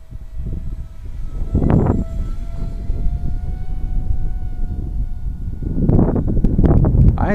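A small, lightweight RC model jet engine whines steadily overhead, with bursts of gusting wind buffeting in the background.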